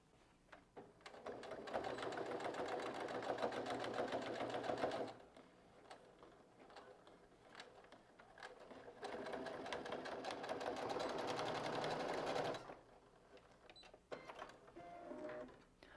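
A sewing machine runs a straight seam on folded bias binding in two sustained bursts of rapid whirring stitching, separated by a quiet pause with light handling sounds.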